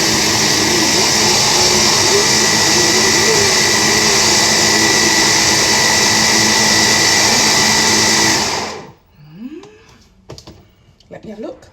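A kitchen machine blends plum mostarda with mustard seeds in a loud, steady whir that runs for about nine seconds, then cuts off abruptly, followed by a few quiet kitchen clatters and brief talk.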